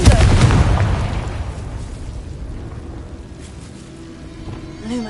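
A Confringo blasting spell detonates in Hogwarts Legacy, a loud close burst at the start that decays into a rumbling tail, with a fainter crackle near the end.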